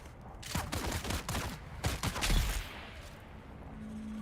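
Gunfire in the video game Dune Awakening, a moderately loud volley of overlapping shots in uneven bursts, then fading to a low hum.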